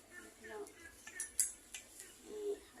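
A Thai eggplant salad dressed with fermented fish sauce is stirred and tossed, a utensil tapping and clinking against a bowl in irregular light strikes, close up with faint background murmur.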